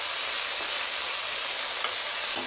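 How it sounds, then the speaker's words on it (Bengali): Fish sizzles in hot oil in a pan over a homemade clay stove, a steady close frying hiss with no pauses throughout. "এই যে মাছ বসাই দিলাম"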